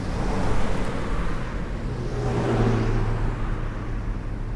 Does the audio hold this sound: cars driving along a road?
yes